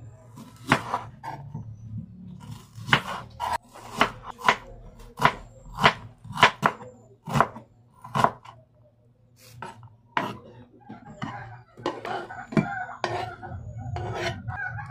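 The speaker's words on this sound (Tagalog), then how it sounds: "Itong ating red onion." A knife chops red onion on a cutting board in sharp, fairly regular knocks, some single and some in quick pairs, with quieter background noise between strikes and a busier stretch of cutting toward the end.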